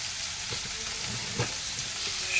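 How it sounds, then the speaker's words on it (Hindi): Onions frying in a pan sizzle steadily at close range, a continuous hiss broken by a couple of soft stirring scrapes. "भून लेंगे। ऑनियन को जल्दी ब्राउन होने के लिए"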